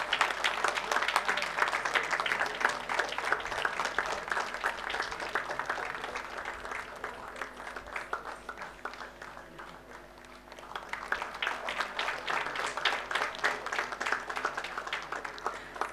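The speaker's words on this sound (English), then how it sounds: "Baby Punarvika, the guest artist, she definitely deserves a loud round of applause." Sustained audience applause for a guest artist at a Rail Wheel Factory vigilance awareness week function, dense clapping throughout that dips briefly near the middle then swells again.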